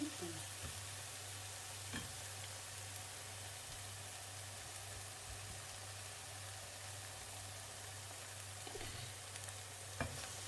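Eggs sizzle and fry steadily in a pan for a Thai-style omelette with chili, fish sauce and basil, a continuous close crackle with a low steady hum beneath and a few soft clinks.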